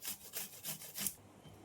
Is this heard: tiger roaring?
no